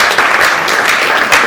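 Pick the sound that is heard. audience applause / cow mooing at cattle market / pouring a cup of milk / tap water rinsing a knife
audience applause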